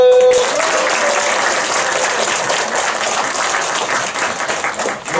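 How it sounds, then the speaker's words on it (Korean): A congregation at a church revival meeting bursts into loud, sustained applause right after a brief voice, the clapping dense and even before tapering slightly at the end. "박수!"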